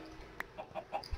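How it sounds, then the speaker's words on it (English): Chickens in the video game Minecraft give a few short clucks in quick succession, soft and fairly close, with no talk over them. "New chickens."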